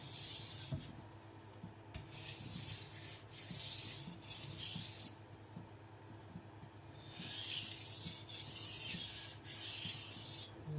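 A Tojiro white steel shirogami nakiri knife is thinned on a sharpening stone, giving repeated long, hissing scraping strokes in bursts with short pauses between them, close and alone.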